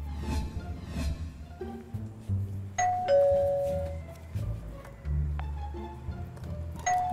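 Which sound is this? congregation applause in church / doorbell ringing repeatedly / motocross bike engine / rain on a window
doorbell ringing repeatedly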